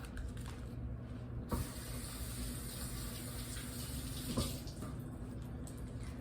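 Spinach for a tuna pasta rinsed under a running kitchen tap, heard as a steady close hiss of flowing and splashing water with a couple of faint knocks, no talk.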